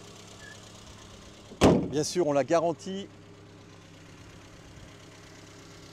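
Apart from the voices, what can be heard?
1972 Renault 12 Break engine running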